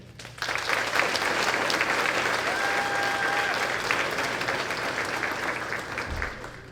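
A large audience at an 8th grade graduation ceremony bursts into loud, sustained applause that holds steady for several seconds before trailing off.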